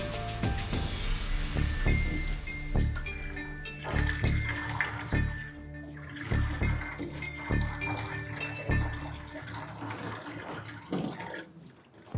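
Dishes are washed under running tap water, with steady splashing and occasional clinks and knocks of plates and utensils, fairly quiet and close.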